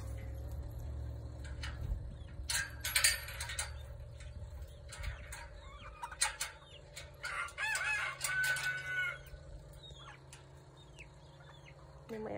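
Chickens cluck and squawk nearby in scattered bursts, with a rooster crowing briefly over a low steady hum.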